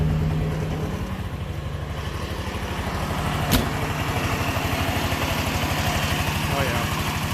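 A two-cylinder engine idles roughly with the choke partly on, misfiring and running on one cylinder, making an uneven, loping putter close by that goes on throughout with one sharp knock midway.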